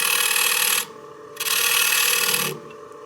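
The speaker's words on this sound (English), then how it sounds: "grab my skew and turn this down just a hair." A skew chisel turns wood on a lathe for a cake stand, giving two sustained rasping, scraping passes with a short quiet pause between them, close and steady.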